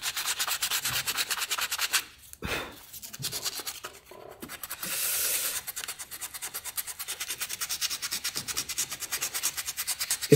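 Rapid rhythmic scraping of sandpaper on wood, steady back-and-forth strokes close by, pausing briefly partway through before resuming.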